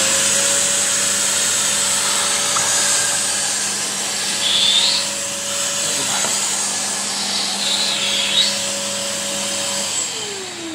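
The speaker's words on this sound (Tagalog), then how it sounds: "Absorbing water, so press mo lang si vacuum." A Polti wet vacuum cleaner roars steadily and loudly for several seconds with a gurgling suction of spilled water, then its motor pitch drops as it powers down.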